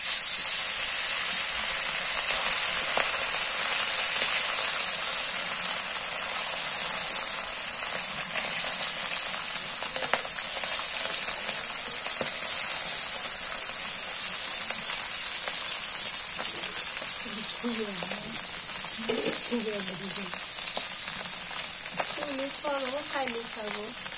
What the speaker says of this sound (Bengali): তেলটা গরম হয়ে গেছে এবার মাছ দিয়ে দিই